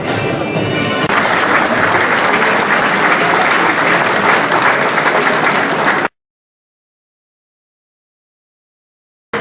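Audience applause at the closing ceremony of the Nancy 2013 championship: steady, loud crowd clapping for about six seconds, then cutting off to silence.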